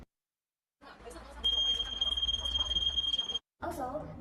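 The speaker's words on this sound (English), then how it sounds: "this prototype is attached with an alarm to spread loud sound to ask for attention and help." A loud electronic alarm built into a prototype walking stick sounds as a steady high-pitched tone for about two seconds, then cuts off, with faint background noise around it.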